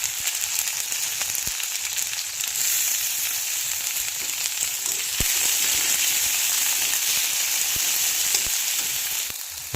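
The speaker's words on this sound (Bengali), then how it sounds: "ফোড়নটা হয়ে এসছে, এবার আমি এটাতে দেবো টমেটো কুচি আর কাঁচা লঙ্কা কুচি।" Loud, continuous sizzling of chopped tomato and green chili frying in hot oil, with occasional crackles and stirring scrapes, heard close up and without speech.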